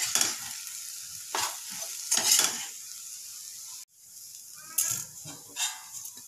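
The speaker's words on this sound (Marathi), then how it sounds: "आता आपण यामध्ये मीठ देखील ॲड करूयात चवीनुसार आणि व्यवस्थित परतवून घेऊयात।" A breakfast mixture sautés in a pan with steady, close sizzling, broken by several bursts of scraping and stirring from a spatula against the pan.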